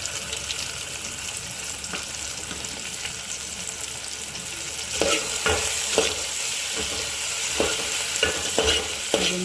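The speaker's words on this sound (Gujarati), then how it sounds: "આદુ મરચાંની પેસ્ટ આપણે અંદર બરાબર શેકવા દઈશું।" Ginger-chili paste fries in a pan for Gujarati dal, giving a steady soft sizzle with scattered spoon scrapes and taps as it is stirred, close and moderately loud, with no talking.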